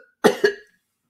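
A timid storybook dragon coughs twice in quick succession, two close, harsh bursts heard alone and clearly, likely voiced by a narrator imitating the cough.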